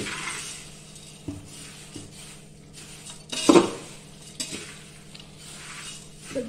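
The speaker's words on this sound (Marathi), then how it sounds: "सगळे पोहे परतून" A spoon stirs thin poha flakes through hot tempering in a pan, giving soft scraping and gentle sizzling with a few sharper metallic clinks against the pan, close and steady, with no talking.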